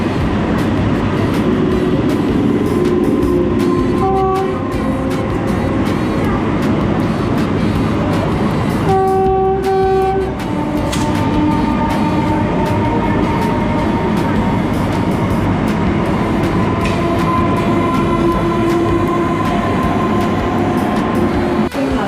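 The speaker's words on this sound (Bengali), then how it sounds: "বর্ধমান স্টেশনে ট্রেন দাঁড়িয়ে আছে" A train stands at Burdwan station on the Santiniketan to Howrah run, giving a loud, steady rumble and station din throughout, with a few brief tonal hoots rising over it midway.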